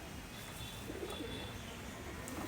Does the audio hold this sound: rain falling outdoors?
no